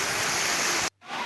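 Water pours down a waterfall in a steady, loud rush of broadband noise, cut off abruptly for a moment before the roar returns slightly softer.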